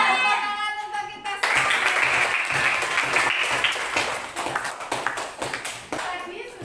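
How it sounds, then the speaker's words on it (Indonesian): Classroom clapping during a mathematics lesson, a brief voice at the start and then a burst of close hand claps from students that continues unevenly with lively chatter. "Tepuk tangan untuk kita"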